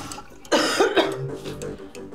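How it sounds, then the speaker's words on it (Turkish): A woman coughing hard in a sick-role scene of a Turkish TV drama, a burst of several harsh coughs close up, followed by softer throat sounds. "Ay, sabaha kadar öksürmekten hiç uyuyamadım"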